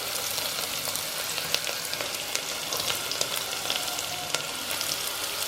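Small shallots frying in a pan, a steady close sizzle with scattered crackles and pops throughout, no voices.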